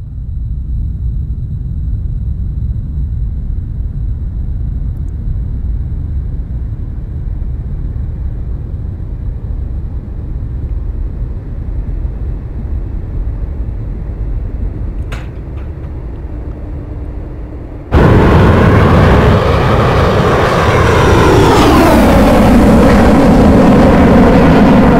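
Mirage 2000 jet aircraft taking off, heard from the cockpit as a low steady rumble that jumps into a loud roaring surge of engine thrust, with rising and falling whine as power builds.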